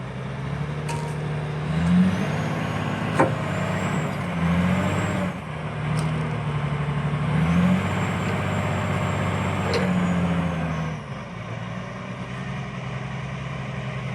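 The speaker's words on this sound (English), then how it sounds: "Truck goes out to get another load just down the road from the logging yard," A loaded logging truck pulls out of a log home yard, its diesel engine droning steadily with air brake hisses and pops, the rumble swelling and easing as it moves off and fades near the end.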